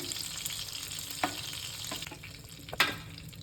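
Chicken frying in a pan for a homemade butter chicken, a steady bright sizzle with soft crackles and a couple of sharper clinks of stirring, close and without talk.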